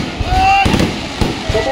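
Fireworks at a crowded outdoor ground, sharp bursts and crackles with a whistling rise, heard under a loudspeaker voice talking.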